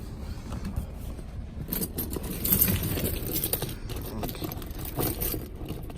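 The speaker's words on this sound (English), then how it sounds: "Too many keys" A bunch of car keys jangles and rattles close by, loose metallic clinking in irregular bursts over a low background rumble.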